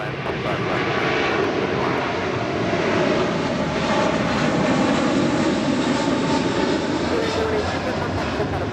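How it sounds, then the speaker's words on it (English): A Korean Air Airbus A380 takes off from runway 25 left at Los Angeles International Airport, its jet engines giving a loud, steady, broadband roar that holds for the whole stretch without letting up. "That is Korean Air Flight 18 Super departing to Seoul on the A380"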